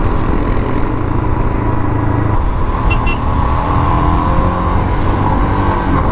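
A car closes in behind a motorbike and pushes to overtake on a mountain road with blind bends, a loud, continuous engine roar and wind rush filling the whole stretch, with no talking.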